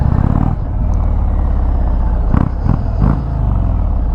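An Indian Springfield Darkhorse motorcycle with a stock engine idles loud and close, a deep, steady rumble with a few short throttle blips near the end and no talking over it.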